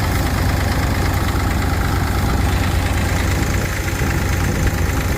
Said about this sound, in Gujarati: 11 RPM હાંકી રહ્યા છીએ અમે, કારણ કે ઓર થોડો છે એટલે ટ્રેક્ટર ઉતાવળું નથી હાંકતા